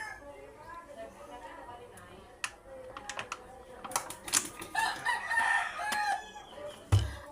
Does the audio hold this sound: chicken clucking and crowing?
yes